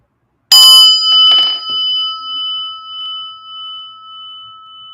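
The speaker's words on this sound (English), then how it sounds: "listen to the bell" A single bell struck once, with a bright, clear tone that rings on and slowly fades over several seconds in otherwise quiet surroundings.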